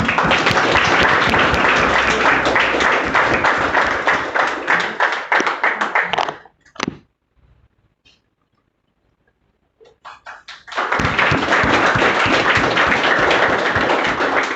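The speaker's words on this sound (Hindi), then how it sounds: "तो एक बार सीमा वर्मा के लिए तालियां होनी चाहिए।" A classroom crowd gives loud, sustained applause for NEET district topper Seema Verma. The clapping stops for a few seconds of near silence broken by faint scattered taps, then resumes just as strongly.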